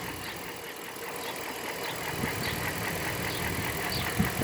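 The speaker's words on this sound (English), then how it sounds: "I'm just going to start up here with the hood popped so you can take a look and have a listen at the motor here" A 2012 Ram 1500 pickup's 4.7-liter V8 idles with the hood open, giving a steady, even rumble with a faint ticking texture that holds through the whole stretch and swells slightly toward the end.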